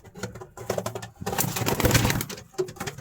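Pigeons in a loft cooing softly with low, throaty calls, mixed with wing flutters and scuffling from a few birds nearby.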